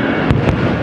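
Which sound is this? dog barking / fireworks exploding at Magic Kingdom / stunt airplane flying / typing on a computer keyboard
fireworks exploding at Magic Kingdom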